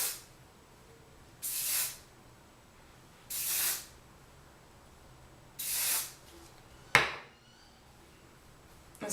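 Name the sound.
hairspray being sprayed on hair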